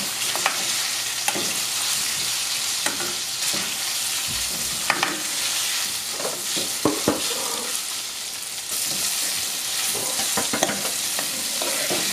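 Bacon and onion fry in a pan, the bacon fat sizzling for a rice dish. A dense, continuous crackle runs throughout, broken by repeated scraping strokes as a utensil stirs the pan, with no talking.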